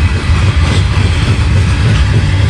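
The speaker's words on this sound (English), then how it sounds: "So right now, I'd say this train's going 25 miles an hour. It's going relatively slow." A loud freight train of loaded hopper cars rolls through the Halethorpe Amtrak station in Maryland at moderate speed, a steady heavy rumble with wheel clatter very close and continuous.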